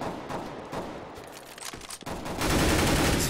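Gunfire rattles in a competitive tactical shooter match, scattered rapid pistol and rifle shots that build into a dense, loud burst of overlapping fire.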